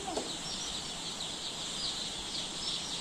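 Young chicks on a Philippine farm chirp continuously in a dense, high-pitched chorus with faint clucking, a steady mass of birds close by and no talk.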